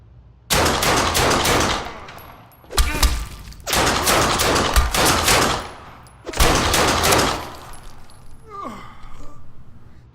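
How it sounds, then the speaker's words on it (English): Dual-wielded pistols firing in the video game Fallen Earth, rapid bursts of gunfire in four long volleys with short gaps between them, loud and close, ending in a faint tail. "Dual wielding pistols is just absolute fantastic. You see the way I can rip through them"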